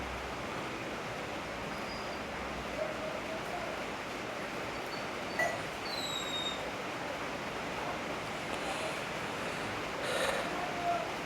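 A small waterfall near a village pours in a steady, unbroken rushing wash of flowing water, with a few faint high chirps briefly rising above it.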